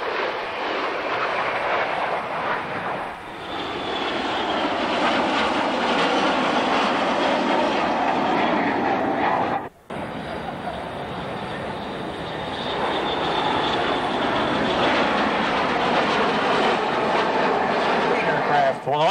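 Ohio Air National Guard fighter jets of the 121st Tactical Fighter Wing pass at a Columbus air show, a loud sustained jet roar that swells and holds, briefly cutting out, with crowd and announcer voices faint beneath.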